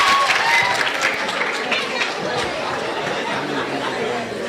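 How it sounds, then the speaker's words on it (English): An audience at a university languages day event claps loudly in a full, dense burst, mixed with crowd chatter and some chuckling, the roomy wash of applause holding steady before easing slightly. "let's give them a big round of applause"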